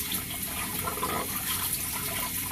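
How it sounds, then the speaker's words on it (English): Water runs from a tap while a shaving brush is rinsed under it, a steady hissing splash that continues unbroken and close, with no voices. "I know you probably hate to hear that water running"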